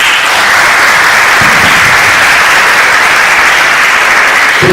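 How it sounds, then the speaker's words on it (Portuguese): An audience at a talk on vaccination and polio eradication gives sustained, loud, even applause to welcome a speaker, filling the whole stretch without speech. "eu gostaria de recebê-lo com uma salva de palmas"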